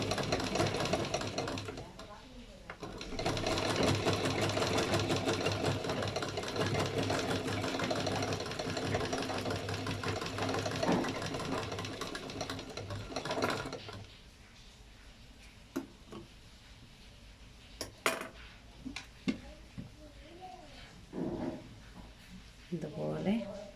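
Sewing machine stitching along a garment's neckline and round edge during a home tailoring lesson, running steadily and loudly for about fourteen seconds, then stopping, followed by quieter handling sounds and scattered short bursts.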